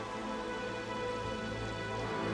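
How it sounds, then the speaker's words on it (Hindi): Steady rain in a Bible-based audio drama, a dense continuous hiss of falling water with no voices over it, loud and even throughout. "मैं देख रही हूँ कि बाल ने हमारे लिए बारिश भेजा है"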